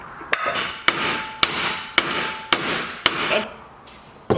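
A broken hammer pounds in a workshop, seven sharp, evenly spaced blows about half a second apart, each ringing briefly with a metallic tone, close and clear with no talk.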